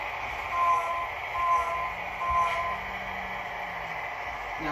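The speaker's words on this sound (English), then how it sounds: "So now as we roll past here, stop the train, switch this track." HO scale model train running on layout track, a faint steady rolling hum with light periodic swells, soft and continuous against quiet room background.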